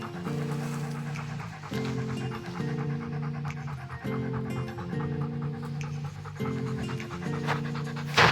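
Labrador dogs pant rapidly and steadily in a forest, close and fairly loud, with a continuous rhythmic breathing that runs throughout.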